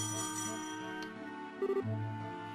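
A phone rings in the video game Trails in the Sky SC as a brief burst of electronic chirps layered over ongoing soft game music.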